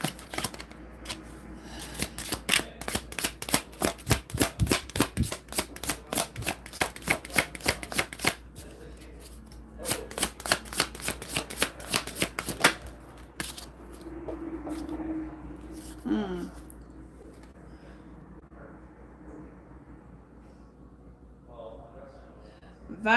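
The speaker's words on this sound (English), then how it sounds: "I'm going to pull one more card." Tarot cards being shuffled in rapid riffling bursts of crisp flutters, repeated for several seconds, then quieter handling and softer card sounds with a voice speaking faintly toward the end.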